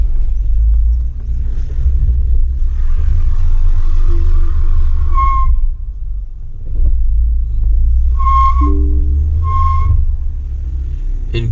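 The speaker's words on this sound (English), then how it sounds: "I am literally trying to go up the hill and I'm getting tons of wheel spin." A 2023 MG HS SUV strains up a hill with its tires spinning, a steady loud low rumble of engine and road under a few brief electronic chimes from the dash.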